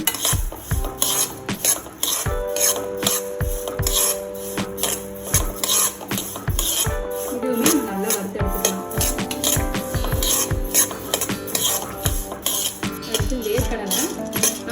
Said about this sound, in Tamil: நெக்ஸ்ட்டு நம்ம கம்பு வறுத்துக்கலாம்.